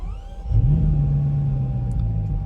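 A car engine revs up into a deep, low rumble that holds steady close by, with no talking.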